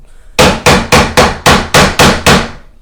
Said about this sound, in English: You could hammer it down.